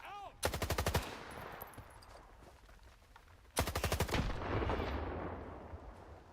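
Gunfire in the S.T.A.L.K.E.R. 2 video game on PS5: two rapid bursts of automatic shots, each about half a second long, separated by a few seconds of ambient background.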